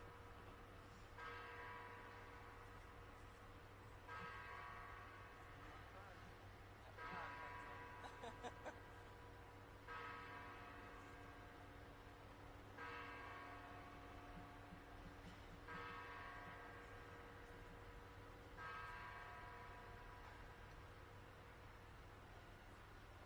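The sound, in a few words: church bells ringing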